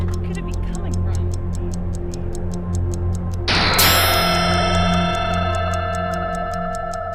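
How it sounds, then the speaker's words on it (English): Ticking in the MLB The Show 19 baseball video game: a steady, evenly spaced tick runs throughout, then a loud metallic clang with a long ringing decay cuts in halfway, and the ticking continues beneath it. "Sounds like ticking, but where could it be coming from?"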